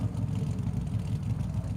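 Steady burbling idle from a Mercedes AMG GT3 with a 6.3 litre V8, deep and uneven low-end pulsing that holds constant throughout, nearby and free of speech.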